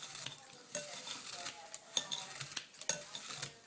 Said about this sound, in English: I just put it in a bowl, and I just use kitchen shears.